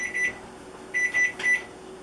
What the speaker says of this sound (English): there's my timer telling me the pizza should be done